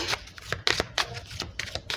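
A Cigano fortune-telling card deck being shuffled up close, with repeated riffling bursts in an uneven rhythm that is loud and clear and has no talking over it.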